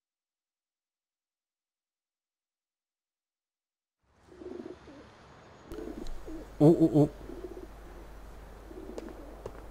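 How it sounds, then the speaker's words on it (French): A pigeon coos softly in GTA IV after four seconds of silence, giving low, muffled calls, while a man murmurs briefly in the middle. "Il y a un rat volant, un pigeon là, non?"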